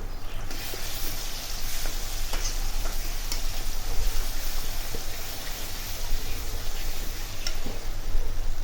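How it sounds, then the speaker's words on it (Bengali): Blended yardlong bean paste fries in hot oil, giving a continuous dense sizzle and hiss with occasional faint ticks and pops of stirring, steady and close throughout without any speech. "এখন তেলে ভালো করে ভেজে নেব"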